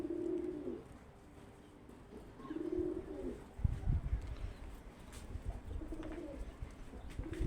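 A five-year-old white pigeon coos in repeated low rolling phrases, near and moderately loud, with occasional scuffs and thumps between calls.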